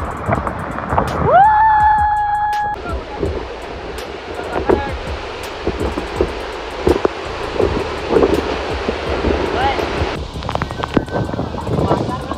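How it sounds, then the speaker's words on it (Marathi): Rushing water from a waterfall near Khopoli, a steady broadband roar mixed with wind, heard under people talking close to the microphone. "एक नंबर वॉटरफॉल"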